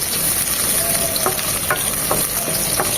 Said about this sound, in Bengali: দিয়ে দিচ্ছি হাফ কাপ পেঁয়াজ কুচি